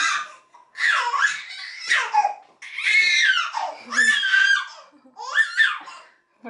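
A child's high-pitched shrieks and squeals at home during a shopping day, several loud bursts close to the microphone with short gaps between them, blending into laughter-like cries.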